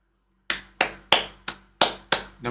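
Six sharp, evenly spaced hand claps ring out in an anime episode, each one crisp and close with a short decay, starting after a brief quiet.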